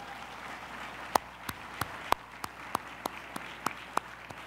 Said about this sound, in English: You deserve a round of applause for your efforts.